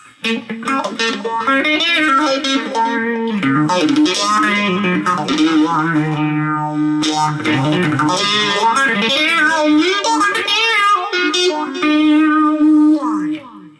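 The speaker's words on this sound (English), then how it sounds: "Let's try a tape echo instead." Electric guitar notes and chords through a Yamaha DG Stomp's tape echo ring out with repeating echoes that trail behind each phrase, dense and sustained throughout, with a warm wobbly delay wash and slight electrical noise.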